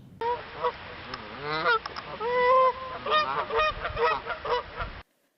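Canada geese honk repeatedly in a noisy, overlapping chorus on a Denver college campus, close and loud, with no talking.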